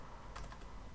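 A brief burst of computer keyboard typing, a quick run of four or five soft keystrokes near the middle, close and quiet against faint background hiss.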